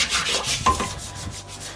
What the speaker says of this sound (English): get your toilet bowl cleaner brush thingy, and we're gonna go ahead and start cleaning this like you would clean your toilet